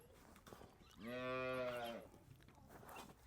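A Jersey cow in a dairy shed lets out a single drawn-out moo lasting about a second, fairly faint and set apart from the quiet surroundings.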